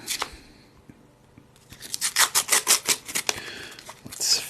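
Paper wrapper being torn off a roll of Australian one dollar coins: a faint scratch, then a quick series of close, crisp ripping pulls lasting a couple of seconds, ending in a brighter crinkling tear, with no talking.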